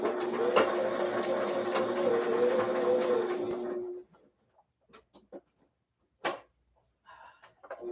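A sewing machine runs steadily for a few seconds with a fast mechanical whir, then stops, leaving scattered small clicks and handling noises.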